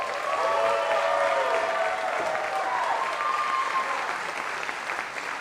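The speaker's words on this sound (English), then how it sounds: "Let's give our candidates a round of applause." Audience applause for candidates at a debate for California's 13th Congressional District, a full steady round of clapping that swells early and tapers slightly toward the end.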